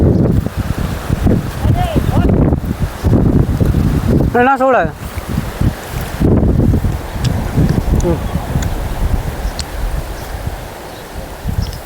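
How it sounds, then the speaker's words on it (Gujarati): Strong wind blows across open village farmland before rain, buffeting the microphone as a steady, rough roar through the whole stretch while people talk nearby. "વાયરો ઘણો હે, વરસાદ ગમે ત્યારે આવી શકે છે"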